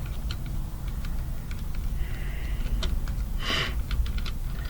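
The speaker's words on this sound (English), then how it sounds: "I'll turn these screws out, bolts, whatever" A screwdriver backs screws out of a mid-to-late 1980s Holley carburetor, making faint, scattered small clicks and ticks close by against a quiet background.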